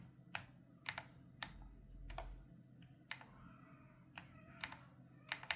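Sharp clicky keystrokes on an MSI Forge GK600 TKL wireless mechanical keyboard tap out irregularly over a low background hum, close and crisp, with a few quicker bursts near the end.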